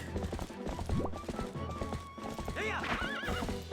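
Horse hooves clip-clop at a gallop across Hyrule Field in Twilight Princess HD, with a whinny, steady game music and a rising sound effect near the end.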